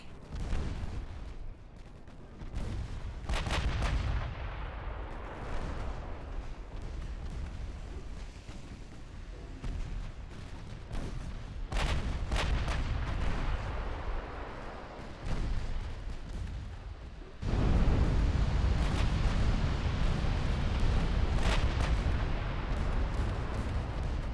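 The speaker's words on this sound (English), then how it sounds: "Secondary guns putting in some work." Warship secondary guns fire in the naval strategy game Ultimate Admiral: Dreadnoughts, a steady barrage of booming artillery shots and rumbling blasts that swells louder near the end, with no voices.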